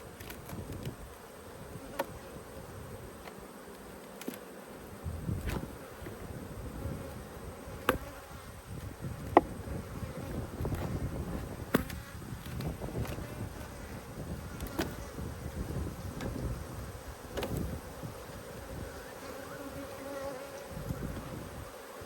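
Honey bees buzz around beehives in the open air, a soft continuous hum with individual bees zipping close past at intervals, over a faint breezy background.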